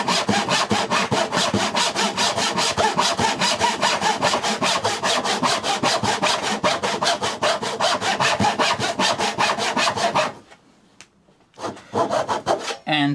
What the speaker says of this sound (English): it's a matter of just following along the top here and just sawing down to your baseline